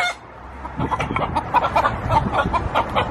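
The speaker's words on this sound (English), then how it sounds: "I don't want to get attacked by a freaking chicken." Chickens released from an abandoned house property cluck in a run of short, repeated calls at close range, starting faintly and growing busier and louder over three seconds with no talk.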